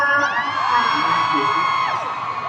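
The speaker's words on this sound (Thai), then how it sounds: "อาขอเสียงกรี๊ดกำลังใจให้กับเจเนนาเลยค่ะ" A crowd screams and cheers in a sustained, loud, high-pitched roar that holds steady for the whole stretch, with whoops rising above it.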